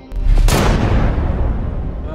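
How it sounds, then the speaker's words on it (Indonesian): A single loud gunshot in an action film cracks early, then a heavy booming echo rolls on and slowly fades. "Mendengar tembakan tersebut, Allison tampak terpukul"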